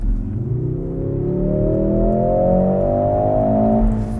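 A 2025 Mercedes-AMG GLC63 S plug-in hybrid with a 2-liter four-cylinder turbo launches hard, its loud engine note climbing steadily in pitch as it accelerates, heard from inside with no talk.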